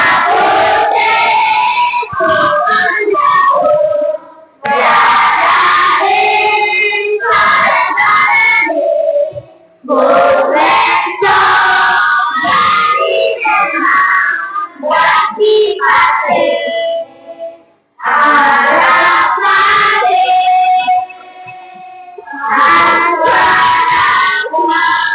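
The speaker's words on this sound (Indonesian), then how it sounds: "Sebelum kita pulang, ada baiknya kita untuk bernyanyi lagu daerah." A group of people sing a regional Indonesian song together at the close of a coding and artificial intelligence training session, loud and continuous with brief pauses between phrases and a whistle or cheer mixed in.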